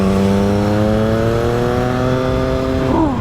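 A Triumph Street Triple 660 S motorcycle engine roars loudly and close, its pitch climbing steadily under hard acceleration and then dropping abruptly as the rider shifts.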